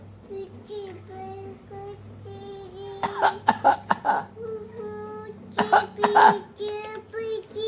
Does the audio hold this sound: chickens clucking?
no